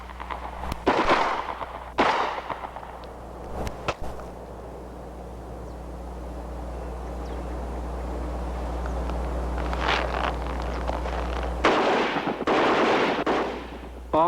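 Bursts of blank fire from an HK assault rifle fitted with a blank-firing attachment for training, loud sharp cracks in short clusters separated by quieter stretches of steady low hum.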